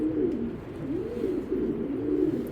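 A large female foreign racing pigeon coos in a soft, continuous, warbling run of low throaty calls, close by and steady with no talk over it.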